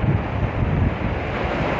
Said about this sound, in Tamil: ஏரிக்கர காத்து ஏலே, காத்து ஓவர் அடிக்குது.